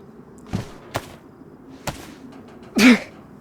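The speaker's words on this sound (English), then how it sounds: "Stop sneezing." A character in the survival video game DayZ lets out a single loud, close sneeze near the end, after a few sharp thumps and clicks from in-game movement and looting.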